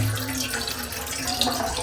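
Tap water pours steadily from a faucet into a container to be heated for drinking, a continuous close splashing hiss that barely changes from start to finish.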